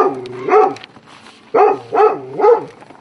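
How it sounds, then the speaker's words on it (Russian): Dogs bark at a house during a visit by a local commission, four loud, close barks, one alone and then three in quick succession. "Вот так лаем собак встречают здесь комиссию."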